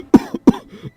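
A man coughs twice in quick succession, close and harsh, followed by a faint throaty trailing sound, in a dramatized horror story aboard a train.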